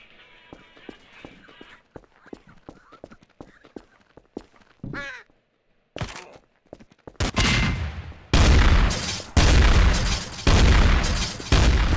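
Gunfire erupts in Garry's Mod Trouble in Terrorist Town, starting as scattered shots and footsteps before loud, sustained bursts of rapid firing dominate the end.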